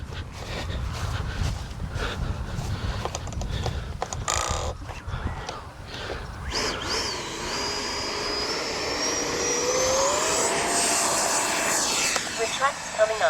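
A Freewing Mirage RC jet's motor spools up and whines steadily with a rising tone, loud and close, while people talk over it now and then.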